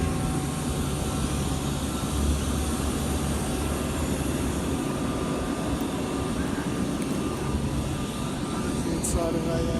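A Cessna Citation CJ1 jet fills the cabin with a steady, loud broadband engine roar and faint whining tones, continuous and unchanging throughout.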